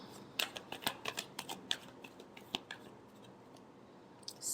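Tarot cards being shuffled close by make a quick run of crisp riffling snaps and flicks that thin out into scattered soft taps, quiet overall.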